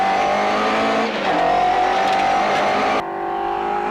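A rally car launches on a stage of the Carlow rally, its newly built engine sounding down on power; the loud, sustained engine note climbs through the gears close by, then drops abruptly as it shifts or pulls away.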